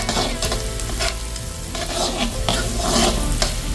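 Garlic and onion stirred together as they fry in butter in a pan, a steady close sizzle with repeated scraping strokes of a utensil throughout, no talking.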